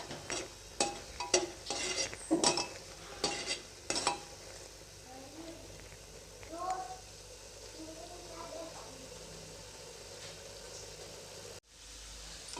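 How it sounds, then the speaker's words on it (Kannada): Spices, green chilli and black pepper powder fry in a pan for North Karnataka biranji rice. A handful of sharp stirring clacks comes first, then a quiet, steady sizzle with a faint low murmur. "ಈಗ ಇದಿಷ್ಟು ಚೆನ್ನಾಗಿ ಫ್ರೈ ಆಗಬೇಕು"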